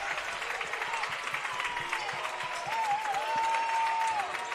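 Sustained crowd noise and clapping in a high school boys basketball gym during Wayne at Blackhawk Christian, with a whistle-like tone rising over the din midway as the roar swells slightly louder toward the end.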